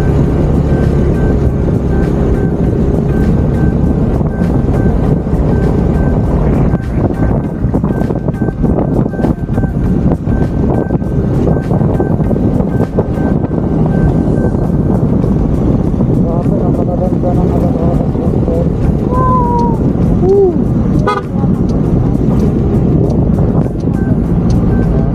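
Motorized bangka boat engine droning steadily at close range on open water off Carigara, Leyte, with heavy wind buffeting the microphone throughout and brief voices in the background.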